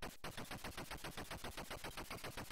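Machine gun fire from an F-16 fighter jet in the retro video game F16 Renegade: a rapid, steady stream of sharp bursts repeating evenly throughout, loud and alone.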